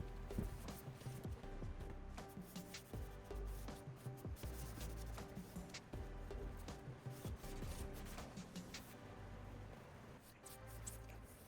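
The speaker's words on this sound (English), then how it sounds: "I'm just going to apply the paint wash with a rag, sort of like you would with a stain" A rag rubs and wipes paint wash onto the trim of a dated cherry hutch, giving soft, continuous scrubbing and swishing strokes close by and fairly quiet.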